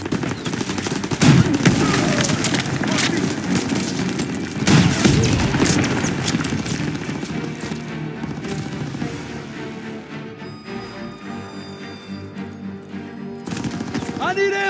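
Gunfire and artillery in a World War II–era war video game set in 1944, dense bursts of machine-gun and rifle fire with heavy booms, loud and continuous, then tapering off, with shouted voices mixed in.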